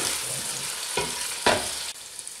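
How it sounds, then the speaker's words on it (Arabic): Dried meat (qaddid) frying with onion over low heat in a steady sizzle, broken by two short scraping stirs before the sound drops off abruptly. "القديد والبصل تقليو"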